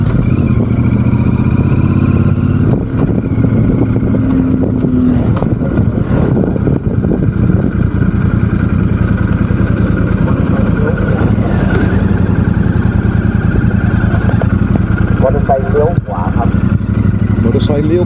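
A motorbike engine drones steadily while riding to the Chiang Rai Balloon Festival, picked up by a helmet microphone with wind and road rumble; the low hum holds loud and close throughout, with a voice talking briefly over it.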